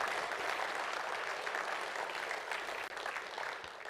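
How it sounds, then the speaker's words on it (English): A crowd applauds students after their final presentations, producing a continuous, even roar of clapping that stays fairly distant and soft, with no voices on top. "So just a round of applause for the students."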